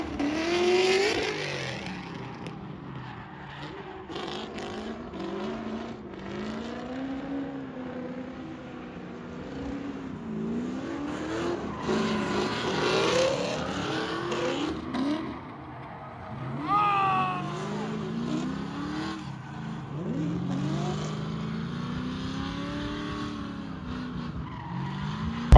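A car drifting on the Sonoma Raceway road course in dry weather: sustained, loud tire squeal that swoops up and down in pitch over engine revving, in long skids with short breaks and no talk.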